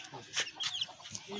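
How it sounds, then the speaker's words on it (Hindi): A cartoon hen clucks in short, lively bursts, several quick calls in a row, close and fairly quiet. "ये मुर्गी आ गई और ये इसके बच्चे"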